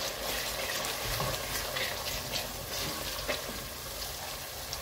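Turmeric and chilli powder sizzle steadily in a hot pan for a lamb and spinach curry, with soft stirring scrapes over the constant frying hiss and no talking.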